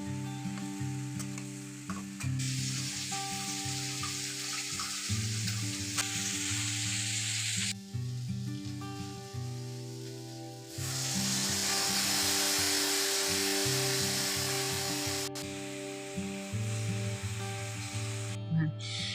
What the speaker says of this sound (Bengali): মশলাটাকে ভালো করে অ্যাড করে এরপর এটা ভালোভাবে নেড়ে চেড়ে নিচ্ছি